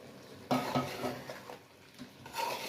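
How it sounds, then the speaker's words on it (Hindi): Mutton with red chilli, turmeric, salt and dried coriander powder being sautéed in a pot, with a spoon scraping and clanking against the metal in irregular strokes over a soft frying hiss. "इसको हम अच्छे से भून लेंगे।"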